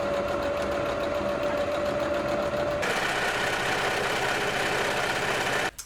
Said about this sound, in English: I'm just going to start sewing it up